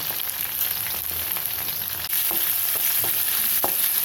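Cumin seeds and a chopped onion fry in hot oil, a steady, dense sizzle that fills the whole stretch with a few faint stirring scrapes, close and loud with no voices.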